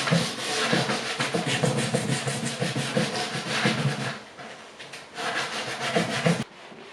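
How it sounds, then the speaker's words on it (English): Hand sanding on the ends of a wooden table with a 220 grit sanding sponge, a steady loud rasping rub in quick repeated back-and-forth strokes, pausing briefly before resuming, with no talk. "I'm going to sand by hand on the ends of the table."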